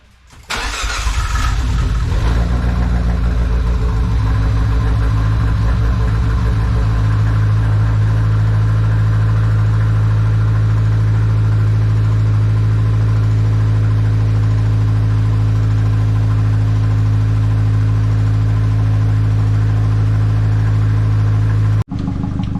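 A Fiat 500 Abarth with a new big turbo and cam idles steadily in cold weather while still warming up, a loud, close, even engine drone with a brief start-up flare at the beginning and no talk.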